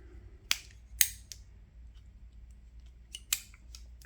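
Sharp mechanical clicks of the small scissors on a Rocktol multitool snapping shut, two quick ones close together, then a pause and another pair, close and crisp.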